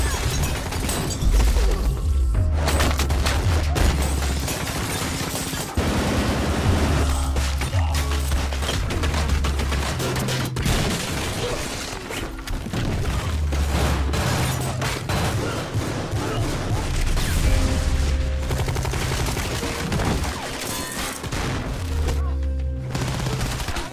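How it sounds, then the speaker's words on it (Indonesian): Sustained heavy gunfire with rapid bursts and scattered single shots, loud and continuous, with booming low thuds and faint voices underneath. "Aksi tembak-tembakan itu pun berlangsung cukup lama dan memakan banyak korban."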